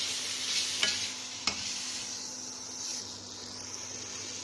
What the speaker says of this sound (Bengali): এই মশলাগুলো দিয়ে আমি এতে 2 মিনিট মতন কষিয়ে নেব।